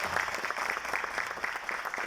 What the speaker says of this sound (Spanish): Merece otro aplauso ese momento.